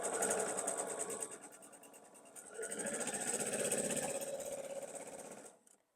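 A sewing machine stitches quilt block triangles onto a hexagon, running in two close, steady rapid bursts with a short slower pause between, then stopping abruptly.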